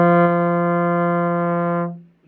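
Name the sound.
steady trombone long tone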